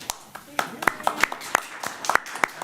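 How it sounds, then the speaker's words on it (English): Scattered applause breaks out in a committee meeting after a motion passes: a handful of separate, uneven claps, fairly close and loud, with talk murmuring underneath. "We're going to have a lot of applause this meeting."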